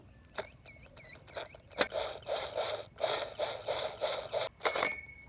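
Ratchet tightening a fastener: a few quick isolated clicks, then a fast run of rhythmic ratcheting clicks in bursts, close and loud, without talking.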